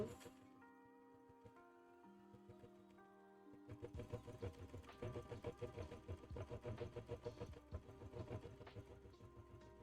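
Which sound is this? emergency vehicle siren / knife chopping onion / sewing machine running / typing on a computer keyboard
sewing machine running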